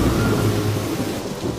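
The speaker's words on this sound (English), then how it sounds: "Are you going to eat your food in the rain?" Cartoon rainstorm from My Little Pony: Friendship Is Magic, with steady loud rain and rumbling thunder running continuously and close throughout, with no voices.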